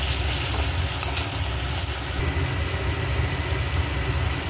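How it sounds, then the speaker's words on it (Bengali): Spice masala with salt being fried and stirred in oil for a Bengali stuffed pointed gourd dish, a steady dense sizzle with a low rumble underneath, continuous and fairly loud, with no voices. "মশলাটা ভালো করে কষে নেব।"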